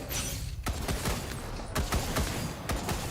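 Turrets in the video game Wasteland 3 fire a rapid volley of crackling shots, several sharp reports in quick succession at a moderate level, with no voices.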